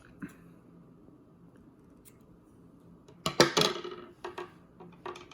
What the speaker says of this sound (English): And I just cut the tag end just to clean it up.